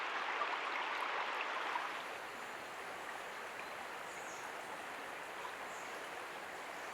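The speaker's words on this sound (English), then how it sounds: "we sat down along the shore of the Thaya and watched the hypnotic flow of the water" Thaya river flowing past the shore, a soft, steady rush of water, fairly quiet and continuous, slightly louder for the first couple of seconds and then settling into an even hiss, with no voices.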